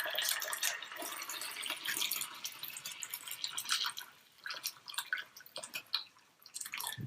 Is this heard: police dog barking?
no